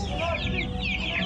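A flock of many chickens clucking and chattering together in a dense, continuous murmur, close and fairly loud throughout the short stretch.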